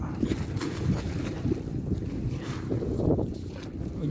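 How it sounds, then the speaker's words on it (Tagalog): Strong wind gusting across Taal Lake with choppy water, a continuous roaring buffet against the microphone that swells and eases without letup. "Medyo po malakas ang palo ng hangin."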